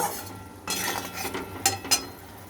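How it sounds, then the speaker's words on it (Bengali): A spoon stirs and scrapes spice masala frying in a pan for a thin rui fish curry, a soft sizzling scrape punctuated by two sharp metallic clinks near the end. "এবার আমি মশলাটাকে ভালো করে কষিয়ে নেব"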